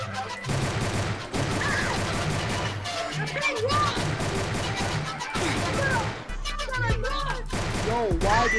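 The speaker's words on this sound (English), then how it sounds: "She shot my ass up trying to rob me!" Gunfire in the Roblox game Please Donate, a dense run of rapid shots and bursts going on throughout, close and loud, with voices chattering over and between the shots.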